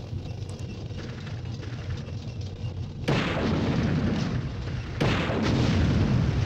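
Gunfire destroying a tank in the video game Army Men: Sarge's Heroes, a low rumbling barrage that jumps abruptly louder twice into dense booming blasts.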